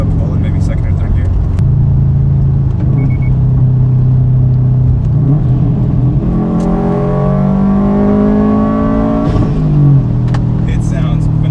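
A tuned 2016 Subaru WRX STI running on E85 pulls hard in second or third gear, its engine note climbing steadily in pitch from inside the car, loud and continuous.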